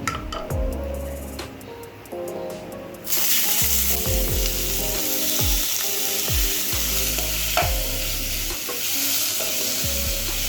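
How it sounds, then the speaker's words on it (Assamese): Eggplant and jackfruit seeds with turmeric sizzle loudly in a hot pan while a utensil repeatedly scrapes and stirs, the frying hiss growing stronger partway through. "ধুনীয়াকৈ ফ্ৰাই হৈ খাবলৈও ধুনীয়া হালধি দি অলপ লৰাই"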